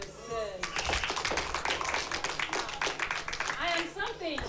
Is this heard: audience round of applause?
yes